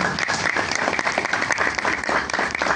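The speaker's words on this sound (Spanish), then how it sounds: "Un fuerte aplauso por favor para la universidad." An audience at a university lecture gives dense, sustained applause, many hands clapping loudly and evenly for a few seconds with no talk over it.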